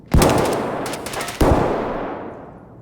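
Two loud gunshot bursts in Escape from Tarkov, each a sharp crack followed by a long echoing tail that fades, the second about a second after the first, no talk.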